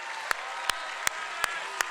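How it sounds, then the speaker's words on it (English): Audience applause in a theatre at a PAX East convention stage show, a steady clapping wash with sharp individual claps standing out at a regular pace, fairly distant and moderate in level. "can we give him one more round of applause for happy birthday?"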